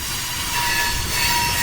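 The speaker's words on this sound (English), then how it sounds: "It was a very, very close recording of a train." Freight train recorded at very close range, a loud unbroken roar of rolling wagons with a sustained high metallic wheel screech running over it throughout.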